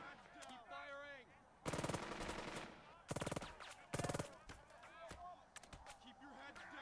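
Bursts of automatic machine gun fire in the WWII strategy game Burden of Command, three loud sustained volleys separated by pauses, with voices and battle sounds running throughout.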